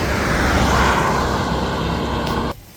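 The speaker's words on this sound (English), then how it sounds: "And that tractor's turning that shaft," A tractor drives a flood pump shaft at a cranberry farm, pushing water up from underground; a loud, steady engine drone with a broad low rumble runs continuously, then cuts off sharply near the end.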